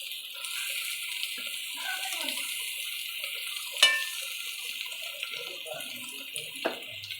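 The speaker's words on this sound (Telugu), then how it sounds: "పెరుగు వేసి వేయించుకోవాలి" Curd stirred and frying in a pan for bagara rice gives a steady, continuous wet sizzle and stirring hiss, with a few sharper scrapes of the spoon against the pan partway through.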